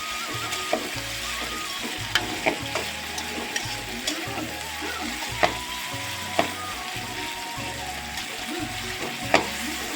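Whole green chillies frying in hot oil in a pan for mustard-style pabda fish: a steady close sizzle and crackle, with sharp pops and occasional stirring scrapes throughout.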